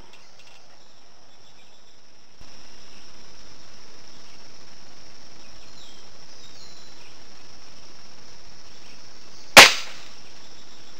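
Crosman F4 Nitro .177 caliber air rifle fired once outdoors at a cup: a single sharp, loud crack rising above a steady bed of insect and cricket chirping.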